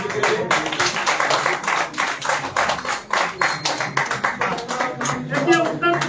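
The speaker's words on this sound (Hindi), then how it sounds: "तालियां राष्ट्रीय अध्यक्ष के लिए।" Hands clapping in rhythmic, distinct bursts from an audience at a literary festival in Chennai, honoring a national president, moderately close and continuous, with some voices mixed in.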